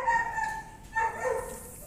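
Caged dogs bark and yip in short bursts, the calls close and fairly clear over a quiet outdoor background near a citrus orchard.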